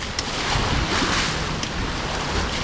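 Steady wind and waves wash around a Lagoon 380 catamaran sailboat as it pushes slowly against wind and current, a constant broadband rush with a few brief splashes.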